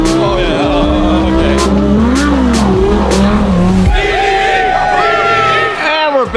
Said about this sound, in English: Nick's hypercharged Huracan STO